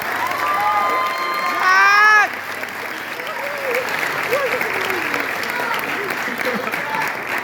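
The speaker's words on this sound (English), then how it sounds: "Let's give it up one round, last round of applause." Graduation audience applause at a mechanics trade school ceremony, a steady broad clapping with some whoops and cheers early on, then a sustained patter of hands continuing to the end.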